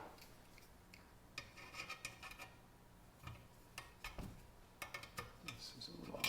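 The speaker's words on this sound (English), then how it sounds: "Get a screwdriver in there." A screwdriver scrapes and clicks against metal parts of a 1940s Preway P4522 stove under restoration, giving faint, irregular rubbing and ticking bursts spread through a quiet room.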